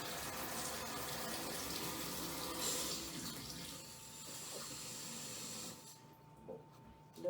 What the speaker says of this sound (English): So I'm just going to fill that up with water now